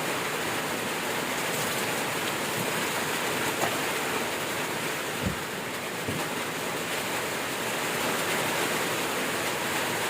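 Steady broadband rain hiss falls over a rural farm at night, a dense continuous wash with a couple of faint thuds, no voices, at a moderate even level throughout.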